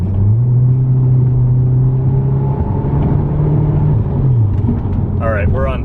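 A 2003 Saab 9-3 2.0T with a Maptun Stage 3+ tune downshifts to third gear and accelerates, heard from inside as a loud, steady engine drone that climbs and holds. A voice speaks briefly near the end.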